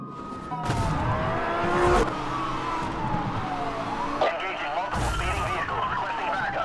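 A Lamborghini Gallardo LP560 engine revs and whines in the racing game Need for Speed: Hot Pursuit, gliding up and down through gear changes, while someone talks over it.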